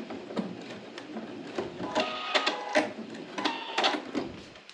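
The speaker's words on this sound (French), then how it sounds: "Le tissu est assez épais quand même. Mais ça va, la machine le supporte très bien." A sewing machine stitching through fairly thick fabric, heard up close in short irregular bursts of rapid mechanical clatter with brief pauses between runs.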